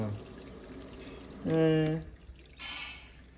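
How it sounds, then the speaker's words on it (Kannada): A kitchen tap, turned on by a cat, runs with a soft, steady rush of water. A voice speaks over it midway, then the water flow swells again near the end. "ಬೆಕ್ಕದು ಕಿಚನಲ್ಲಿ ಬಂದು ನೀರು ಆನ್ ಮಾಡೋದು"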